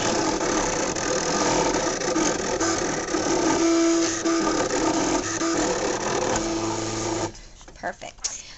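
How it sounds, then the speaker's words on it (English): Cricut cutting machine cutting white cardstock on a low-tack mat, a loud, continuous mechanical whirring and grinding with shifting tones, ending abruptly and followed by a few softer clicks; a voice talks briefly. "Go ahead and press cut. My mat is not very sticky, so I'm hoping this cuts out smoothly."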